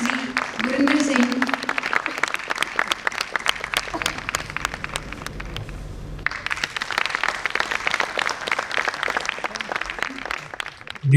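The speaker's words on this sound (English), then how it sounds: "Give a round of applause for Shri Gurminder Singh." Audience applause for Shri Gurminder Singh, an NDRF commandant, as he comes to the stage at a medical conference at AIIMS Kalyani; dense steady clapping fills the room, briefly dips around the middle, then swells again, with voices faintly mixed in.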